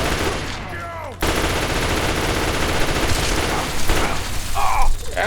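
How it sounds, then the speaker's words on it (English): Rapid gunfire in a video game rattles continuously and loudly, a dense burst of automatic shots that runs for several seconds with bits of other game sound around it. "Stop shooting me!"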